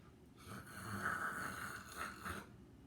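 A voice imitates a long, rasping snore, one drawn-out rumbling breath that swells and fades, heard alone and fairly quiet.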